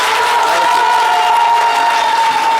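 A lively crowd cheering and clapping as a woman association president arrives at a gathering, a loud, continuous wash of voices and shouts with applause mixed in and a steady tone running underneath.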